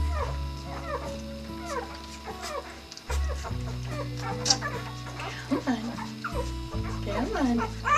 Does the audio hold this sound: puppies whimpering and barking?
yes